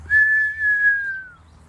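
A single clear whistled note holds steady for about a second, then slides gently downward and fades out.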